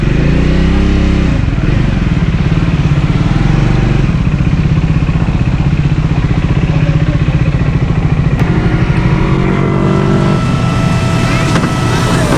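A Triumph Scrambler motorcycle engine drones loudly and steadily while riding, its pitch rising and falling as it revs through the gears, with wind buffeting the microphone throughout.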